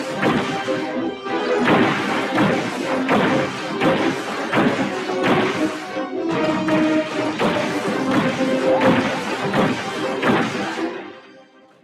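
Rapid cannon fire in a Skylanders Giants video game level, a dense run of loud booming blasts and crashing impacts fired in quick succession, fading out at the very end.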